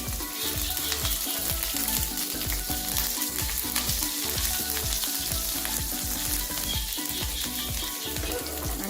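Garlic and green chillies with cumin frying in hot oil in a pan, a loud steady sizzle with repeated rhythmic scraping stirs, close up and without talk.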